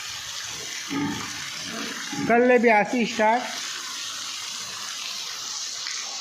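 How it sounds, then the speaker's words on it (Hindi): Steady rain pours down in a continuous broadband hiss, close and even throughout, with someone speaking briefly over it in the middle. "लगभग 2 हफ्ते के बाद हुआ थे पानी गिरई"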